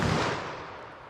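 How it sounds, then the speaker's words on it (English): A single .44 Magnum gunshot: a loud, booming blast that rings out and fades over about a second, with no talking. "I'm going to hit that with the 44 mag."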